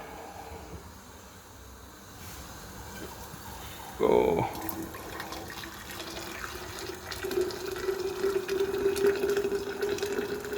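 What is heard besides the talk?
water boiling in pot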